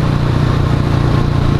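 A Honda Astrea Grand motorcycle engine runs close and loud at a steady idle, its low, even four-stroke thrum pulsing without pause.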